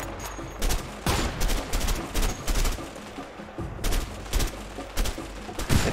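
Weapon fire in A Way Out, repeated heavy bursts of shots in uneven clusters, loud and close with booming low end, no talk.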